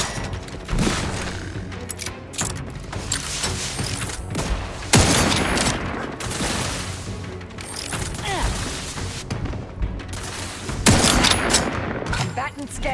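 Rapid bursts of gunfire in The Outer Worlds 2, loud and near, with dense volleys repeating across the stretch and heavy impacts standing out around the middle and near the end; game voices can be heard faintly beneath.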